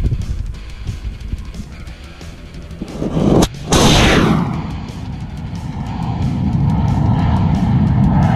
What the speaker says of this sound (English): in a few seconds, you guys are going to get to see an awesome shot from right near the launch pad of this rocket going up